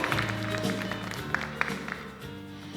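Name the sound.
audience applause for a judge's introduction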